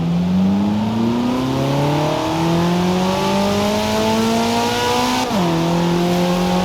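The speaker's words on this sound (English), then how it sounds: "Never heard a Maserati sound like that in my life." A Maserati GranTurismo engine in Forza Horizon 4 revs up steadily through rising pitch, with a brief gear-shift dip near the end, loud and close with no talking.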